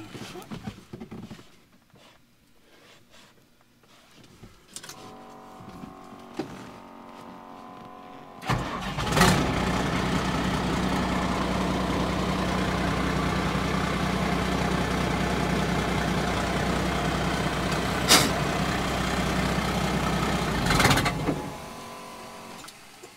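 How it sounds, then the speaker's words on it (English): A truck engine cranks and catches after a quiet stretch with faint handling noises, then idles steadily and loud for about twelve seconds before shutting off. "I'm going to start this truck."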